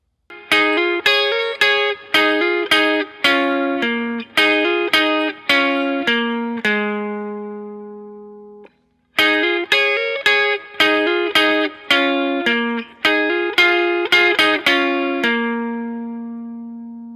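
Electric guitar playing the picked chord pattern of a song, clean plucked notes in a rhythmic run that rings out into a sustained chord, pauses, then repeats and ends on a ringing low chord; no talking.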